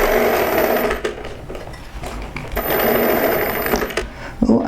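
A domestic sewing machine stitching a fabric scrub hat tie back, running in two loud, steady whirring bursts with a short pause between, close up and without talk.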